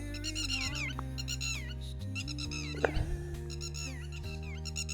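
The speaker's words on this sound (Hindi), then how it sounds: "देखिए अब मैं यहाँ पर खड़ा हूँ तो इतने बर्ड्स की आवाज़ आ रही है।" Birds at a countryside farm retreat calling repeatedly, clear rhythmic repeated chirping phrases layered over a steady low hum, fairly close and continuous with no talking.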